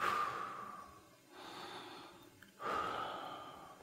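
A person breathing deeply in and out during a floor workout: two or three slow, loud breaths up close with quiet pauses between them, no talking.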